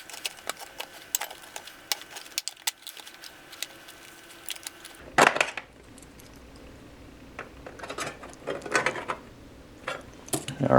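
A hand can opener works its way around a 1976 life raft survival ration tin, giving quiet, irregular ratcheting clicks and grinding snaps in short bursts.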